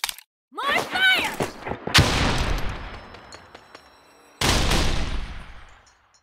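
Gunfire in the shooter game Ace Force 2: a sharp cluster of shots opens, then two long, loud bursts of rapid automatic fire roar close up, separated by a brief lull, with synthetic chirps at the start.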